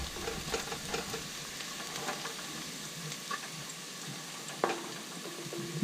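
Catfish pieces stir-fried in a pan for a braised dish, with a soft continuous sizzle broken by scattered scraping and clinking as the spatula stirs, fairly quiet and close.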